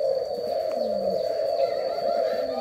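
Young spotted doves coo near the microphone, soft low repeated coos over a constant background hum, with a faint high chirp in the distance.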